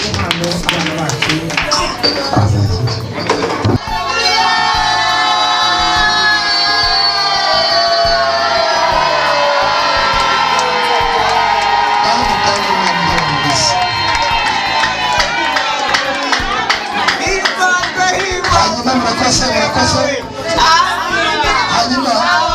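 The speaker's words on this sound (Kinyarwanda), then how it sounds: "reka tubishimire tuyiha amashyi" A large wedding crowd in Muhanga cheers and claps loudly, with high shouts and ululating voices over continuous clapping and general commotion.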